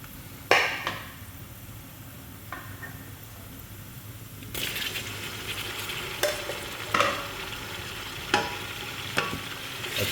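Chopped tomatoes are stirred into onions, garlic and chillies frying in a pot for masoor dal, giving a steady sizzle with repeated sharp scrapes and clacks of the spoon against the pan.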